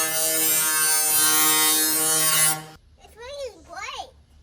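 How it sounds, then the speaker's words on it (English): An angle grinder grinds sharp edges off metal with a loud, steady, high whine that runs for over two seconds, then cuts off abruptly, after which someone speaks. "I'm gonna go ahead and put the grinder on here, grind off all the sharp edges"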